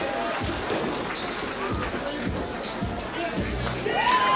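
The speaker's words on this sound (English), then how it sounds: "Both get a nice ovation here from the crowd." Crowd at an independent wrestling show cheers and claps for the winners of a mixed tag match, a dense roar of voices with scattered applause throughout, fairly loud and steady.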